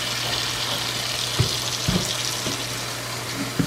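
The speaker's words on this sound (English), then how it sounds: "fill it up with water" Tap water running into a container of produce in a home kitchen, a steady close hiss and splash with a few soft knocks and clunks as the container shifts under the stream.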